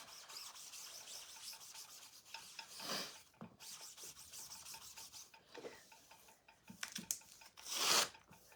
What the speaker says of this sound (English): get our board eraser, wring it out, it's wet, clean it up.